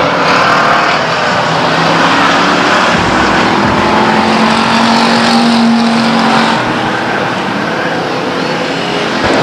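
Race cars roar around the Stockton 99 Speedway oval in a 2000 event, one car sliding sideways off turn four; a loud, continuous engine howl swells and fades slightly as the pack passes, with no voices.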